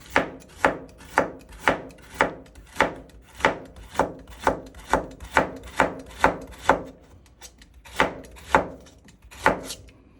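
A knife thinly slicing celery on a cutting board makes a steady series of crisp, close chopping strokes, about eighteen evenly spaced cuts with a short pause near the end.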